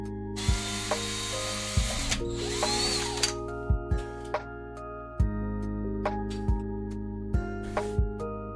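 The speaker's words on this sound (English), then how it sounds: "and drill a pilot hole there." A power drill bores a pilot hole while building a pixel controller enclosure, with a continuous whirring motor broken by sharp clicks and ratcheting knocks, loud and close with no talk.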